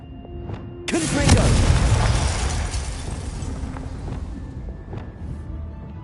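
A Confringo spell explodes in the Hogwarts Legacy video game: one sudden, loud, deep boom whose rumble swells and then slowly fades over several seconds.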